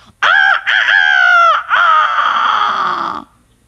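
A rooster crows loudly and close, in a long cock-a-doodle-doo with a brief break partway through and a drawn-out final note, clear and alone before silence.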